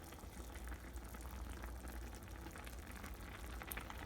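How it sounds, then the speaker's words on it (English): Broth for oyakodon bubbles on medium heat in a pan while beaten eggs are poured in slowly, a steady close simmering and gurgling wash of small bubbles with light crackle. "Now keep your broth bubbling on medium heat and then pour in the eggs."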